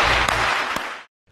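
A burst of audience applause, dense and loud, runs for about a second with a couple of sharper claps standing out, then stops suddenly into silence.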